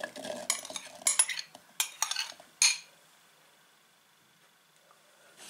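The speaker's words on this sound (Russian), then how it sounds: "Все перемешиваем" Sliced apples are stirred into charlotte cake batter, a series of close spoon scrapes and clinks against a bowl for about three seconds before the sound drops to near silence.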